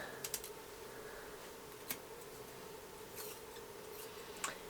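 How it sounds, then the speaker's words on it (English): Kitchen scissors snip off sharp wing tips from a processed laying hen, giving a few faint, brief clicks and snips spread out over a quiet background. "I just use my kitchen scissors to do that"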